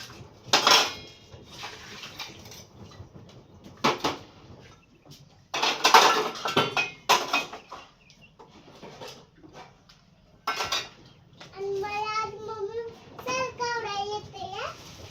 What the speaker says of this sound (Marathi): थोडीशी भांडी पडली ती घासायला